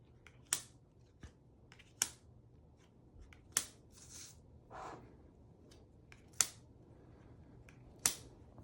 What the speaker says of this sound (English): We will again deal out 8 cards.